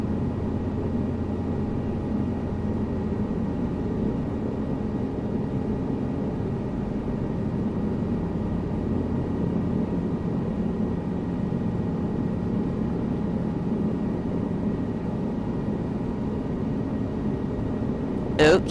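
A helicopter in Microsoft Flight Simulator lifts off from an airport runway, its engine and rotor a steady, close, unbroken drone that holds at one level throughout.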